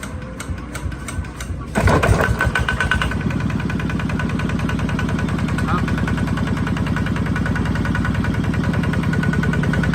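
A hand-cranked single-cylinder Kubota ZT155 DI Plus diesel engine cranks and catches, then settles into a steady, loud, close idle with a rapid, even thumping.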